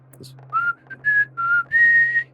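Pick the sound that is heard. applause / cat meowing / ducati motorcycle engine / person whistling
person whistling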